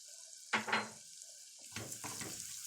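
Garlic cloves drop into melted butter in a pan for a béchamel pasta dish and sizzle in two close bursts, with a spoon stirring and scraping between them.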